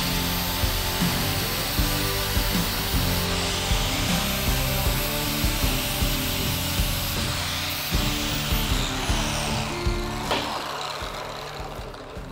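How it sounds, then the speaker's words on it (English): A grinder works on a rusty steel pipe for welding prep, giving a loud, continuous close-up abrasive whine with a rough, rhythmically pulsing texture that tapers slightly near the end. "I'm gonna grind a little spot up here for our ground clamp."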